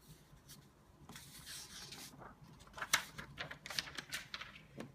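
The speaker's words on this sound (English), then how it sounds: "Type in the username and the password." Keys on a computer keyboard are pressed to enter a username and password, giving soft irregular clicks that grow denser and louder toward the end over faint background rubbing.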